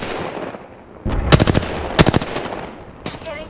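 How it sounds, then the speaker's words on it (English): Gunfire in the Apex Legends video game, two short loud automatic bursts followed by a single shot, close and punchy over a low background. "Getting shot at."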